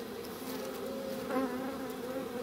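Honey bees buzz steadily around a hive frame being filled with nectar, a continuous close drone with a slight swell partway through and no talking.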